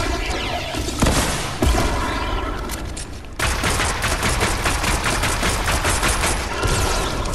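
A combat pistol in a video game fires rapidly, loud dense bursts of gunfire hammering almost continuously throughout with no pauses.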